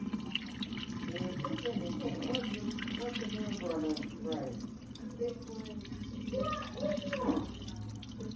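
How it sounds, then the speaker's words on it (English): Water is poured off rice by hand from a pot into a sink, a steady close trickle and splash, while a voice talks over it intermittently. "Now you're going to pour off the water, but you're not pouring out the rice."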